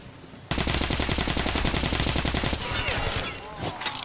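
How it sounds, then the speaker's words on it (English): Loud machine gun fire in the Metro video game, a sudden rapid burst of rattling shots that runs for about two seconds, then trails into scattered echoes and a few more shots. "That's a machine gun."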